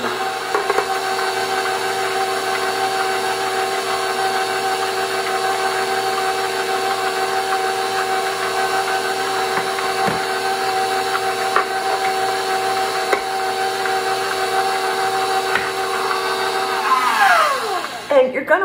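An electric mixer on low speed blends cocoa powder into a French silk pie filling, a steady whirring motor hum held close and continuous, with a brief scraping flourish at the end.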